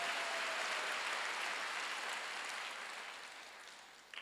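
A Sunday worship congregation bursts into applause as the preacher asks believers to clap, a soft, even wash of many hands from a distance that gradually fades, ending with a couple of sharp nearby knocks.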